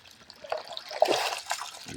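At a singhi catfish farm, water is poured by hand into a tub, giving a short, faint trickle and splash with no talking.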